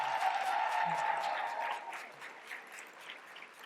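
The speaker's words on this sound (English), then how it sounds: "let's give him another round of applause" An audience at a recognition breakfast claps in sustained, dense applause that starts full and gradually thins and fades, heard from within the room.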